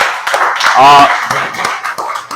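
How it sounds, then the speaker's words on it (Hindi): An audience at a social media incubator event claps to welcome guest speaker Yogi Wajahat, with scattered claps following a brief raised voice, under ongoing chatter. "तो प्लीज योगी भाई के लिए तालियां हो जाएं"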